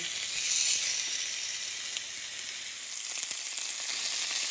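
Country-style pork ribs browning in hot lard, a continuous bright sizzle and crackle of frying meat, close and steady with occasional sharper pops, alone without voices.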